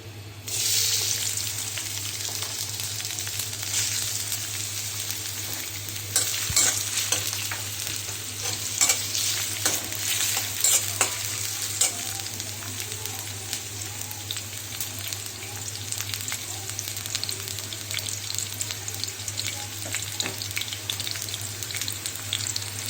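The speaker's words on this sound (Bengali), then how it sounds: "এখন আমি এখানে পেঁয়াজ কুচিগুলোকে দিয়ে দিচ্ছি" Chopped onions sizzle and fry steadily in soybean oil in a pan for a prawn bhuna, with occasional stirring scrapes over a continuous bright crackle and a low steady hum underneath.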